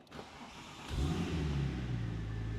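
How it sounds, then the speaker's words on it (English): Porsche 911 Turbo 996 with catalytic converters removed pulls away on the road, its engine note rising into a deep, steady, throaty growl that continues to the end. "Let's head out and let's just take it on the road and experience my 996 turbo."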